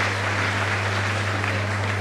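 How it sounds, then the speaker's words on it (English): Dense, steady applause from an audience at a valedictory speech event, filling the whole stretch at an even level over a low electrical hum. "Let's give him a round of applause."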